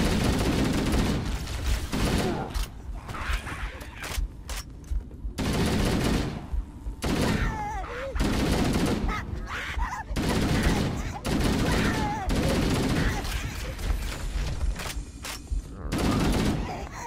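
Bursts of plasma rifle fire from Halo: Combat Evolved crackle in rapid, choppy volleys, broken by brief pauses over about seventeen seconds, loud and close amid other battle noise.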